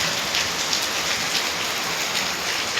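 Heavy rain pouring steadily, a dense, loud, unbroken hiss of drops on surfaces with no talking and no pauses.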